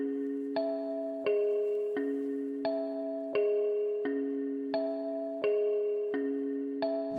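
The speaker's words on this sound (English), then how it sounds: "It's basically like a bell." A low, resonant bell sample in FL Studio struck repeatedly at a steady pace, each strike ringing with a bright overtone and sustaining until the next, alone without talk.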